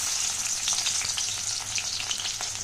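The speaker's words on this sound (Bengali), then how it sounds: "তো ভালো করে নুন হলুদ মাখিয়ে আর মাছটাকে ভেজে নিচ্ছি। কড়াই দিয়েছি সর্ষের তেল, তেল কিন্তু গরম হয়ে গেছে।" Fish rubbed with salt and turmeric frying in hot mustard oil in a wok, a steady close bright sizzle with crackling spits and no voices.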